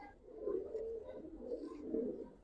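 Old-generation gribaz pigeons coo softly nearby in a quiet, repeated series of low, throaty, rolling calls.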